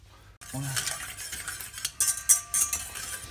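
Ají pepper paste being mixed into Peruvian ceviche of corvina and octopus, with soft stirring and scraping plus a few light clinks of a utensil against a bowl, close and fairly quiet.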